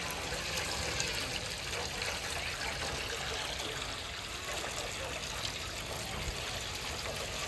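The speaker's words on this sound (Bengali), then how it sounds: "এই রস পড়ছে, মনে হচ্ছে যেন একদম জল শরবত বানানো রয়েছে।" Fresh date palm sap for nolen gur pours in a steady, faint liquid trickle outdoors, a continuous wash of splashing with a soft voice briefly underneath.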